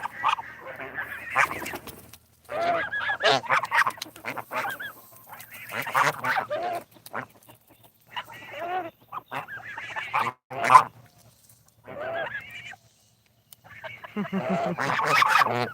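Geese in Canada honk in repeated bursts while being fed kale, with chickens nearby, and loud calls alternate with short pauses as a person talks to the birds.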